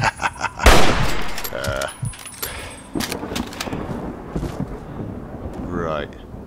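Gunfire in Fallout 3 (modded), a sharp loud shot followed by a few scattered cracks and bursts amid wind-like game ambience and mechanical clatter.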